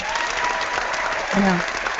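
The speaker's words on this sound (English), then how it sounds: "round of applause" A round of applause during a pen podcast forms a steady wash of clapping, moderately loud and continuous through the short stretch, with a brief voice underneath.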